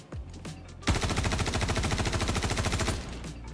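A weapon in Star Citizen test-fires a rapid sustained burst of about two seconds, loud and close, preceded by a couple of short mechanical clicks and thumps, with quiet tail afterward.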